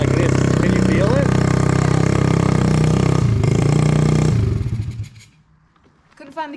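A vehicle with a wobbly, loosely fitted back wheel revs hard and steadily while the rider struggles to find the next gear, then the engine note drops away to near quiet before a short burst returns.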